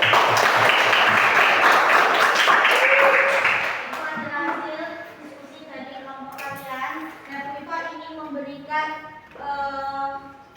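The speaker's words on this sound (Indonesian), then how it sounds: "beri tepuk tangan untuk kelompok 1 dan 2 dulu" Classroom of elementary school children clapping for groups 1 and 2 after their presentations, a loud burst lasting about four seconds, followed by children's voices talking and calling out in the room.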